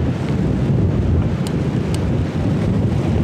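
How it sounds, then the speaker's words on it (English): Strong storm wind buffets the microphone outdoors in a steady, loud roar with broadband rumble, while a Soto WindMaster camping stove struggles to stay lit. "The wind is just too strong, even for the WindMaster."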